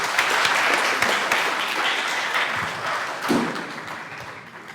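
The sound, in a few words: audience applause at Mr & Ms Madang pageant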